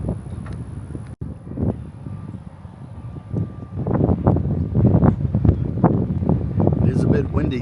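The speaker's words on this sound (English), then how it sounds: "It is a bit windy today." Steady wind buffeting a microphone outdoors at Ellington Field airfield in Houston, Texas, a low rumbling roar that grows stronger in the second half, with speech heard faintly in parts.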